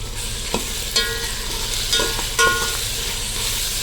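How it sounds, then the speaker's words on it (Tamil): Tomatoes, green chillies, mint and coriander sizzle loudly in a pan for onion-free Ambur chicken biryani, with a steady hiss broken by a few sharp stirring clanks. "தக்காளி பச்சை மிளகாய் புதினா தலை கொத்தமல்லி தலை எல்லாத்தையும் போட்டு வாங்கிக்கிறோம்"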